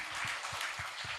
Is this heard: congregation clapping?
yes